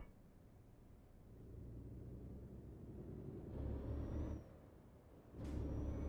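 A truck in Euro Truck Simulator 2 pulls away with a low engine rumble that builds, plus two sharp hissing bursts like air brakes releasing.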